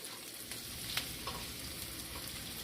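Garlic sizzles steadily in a hot pan, a soft continuous crackle with faint stirring scrapes, close and quiet.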